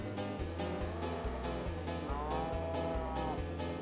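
Cows moo repeatedly in the video game Choro Q Wonderful, drawn-out bovine calls over a looping, rhythmic game soundtrack with a steady beat underneath.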